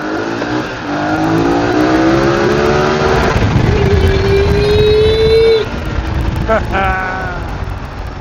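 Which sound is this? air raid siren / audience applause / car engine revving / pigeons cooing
car engine revving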